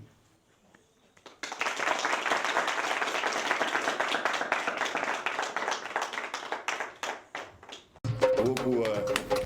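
Sustained applause from an audience for Jean-Claude Tijan, dense steady clapping lasting several seconds after a quiet start, then a voice begins speaking over the end.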